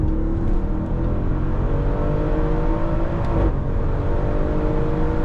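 An Audi RS6 C7 Performance with its 605 hp engine pulls hard from 100 to 200 km/h, a loud, steady engine drone rising continuously in pitch with a brief gearshift dip midway.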